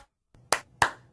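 Two sharp, close hand claps, a fraction of a second apart, trigger the Clapper sound-activated light switch in a quiet room.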